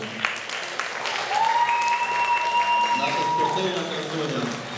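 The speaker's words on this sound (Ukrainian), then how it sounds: "Оплески Катрусі" Audience applause at a children's beauty contest, a steady mid-level clapping that swells and holds under a sustained whistle-like tone and some background voices.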